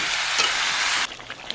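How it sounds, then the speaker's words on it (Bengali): Chicken curry with chui jhal stirred and fried in a pan: a loud, dense sizzle with scraping stirs for about a second, then it drops to quieter crackles and a few small pops. "দিয়ে এটাকে ভালো করে নেড়ে চেড়ে কষিয়ে নেব।"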